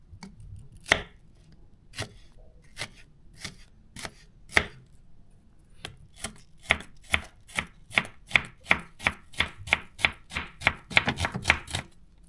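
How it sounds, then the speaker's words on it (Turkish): A Zwilling self-sharpening chopping knife strikes a cutting board again and again as food is cut, sparse chops at first and then a quick, steady run of crisp, close knocks. "Doğrama bıçağında deniyorum."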